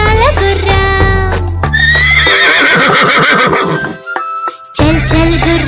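A horse whinnies loudly and up close in a children's rhyme, several shrill, wavering neighs and snorts in quick succession with a brief gap near the end.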